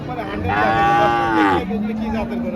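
A large Holstein Friesian dairy cow gives one long, loud, close moo that swells and then trails off into a lower groan.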